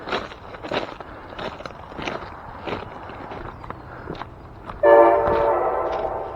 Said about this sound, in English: I'm on train tracks and I just heard that noise